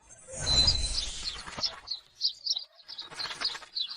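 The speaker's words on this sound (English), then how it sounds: "Let's start with a little bird." A small bird chirps and flutters its wings, with a burst of flapping up front and then a run of quick, bright tweets and coos close by, with no talk over them.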